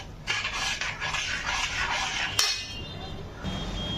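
Soaked rice is stirred in a cooking pot for coconut pulao, with a few close, scraping and clinking strokes against the metal under kitchen background noise, and one sharp clink midway.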